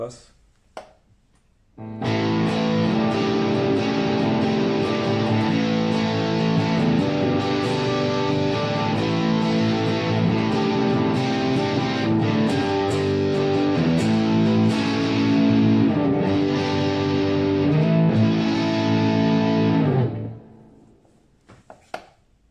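A heavily distorted electric guitar, played through a Boss GT-1000 Dist+ distortion tone, plays chords and riffs for about eighteen seconds, thick and saturated, then rings out into silence.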